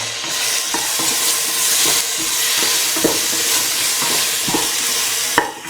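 Tomato pieces are stirred in a hot frying pan for a carrot, tomato and coconut milk rice, a steady close sizzle broken by repeated scraping strokes of the spoon.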